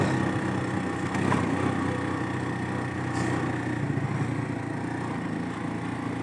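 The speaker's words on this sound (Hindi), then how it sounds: "जनाब मोटरसाइकिल जा रहे हैं" Motorcycles running steadily on a snowy mountain road in Azad Kashmir, the engines giving a continuous mid-pitched drone at fairly close range that stays even throughout, with no talking.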